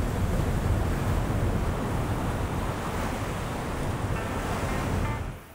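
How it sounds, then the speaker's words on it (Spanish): A set of ocean surf waves rolls in along the coast of Peru, a loud, steady broadband wash of breaking water with wind across the microphone, continuous throughout before easing slightly at the end. "justo está entrando una serie de olas"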